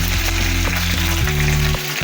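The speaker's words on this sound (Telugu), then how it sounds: "ఇప్పుడు కరివేపాకు వేసుకున్నానండి." Curry leaves sizzle and crackle loudly in hot oil for a tempering, along with green chillies, while a spoon stirs and scrapes the pan in a few regular knocks.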